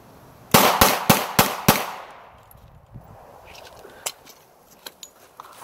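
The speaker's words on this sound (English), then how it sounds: "All right, so I fired a total of 6 rounds." Five quick handgun shots ring out in a fast, evenly spaced string during a cold-weather concealed carry reload drill, loud and close, followed by quieter clicks and handling noises of the reload.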